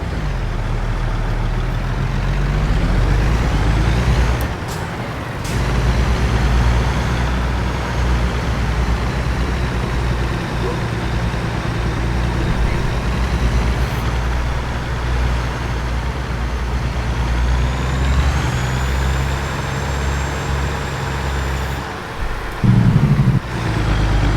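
A Kenworth T800 truck engine in American Truck Simulator drones steadily with a deep, rumbling tone, pitch rising and falling through gear changes, with a brief hiss near the end.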